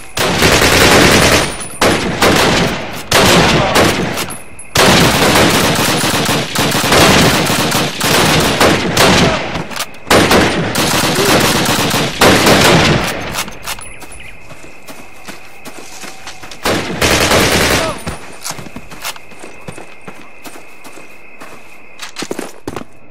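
Bursts of rapid gunfire from a Call of Duty: United Offensive battle, loud volleys of machine-gun and rifle fire broken by short pauses, trailing off into quieter scattered shots and background battle noise.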